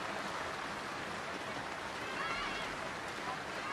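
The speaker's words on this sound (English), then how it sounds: "so far there's no lightning, just heavy rain" Heavy rain pours steadily over an outdoor girls' football match in Malang, Indonesia, a dense even hiss that stays constant throughout at moderate level, with no lightning or thunder.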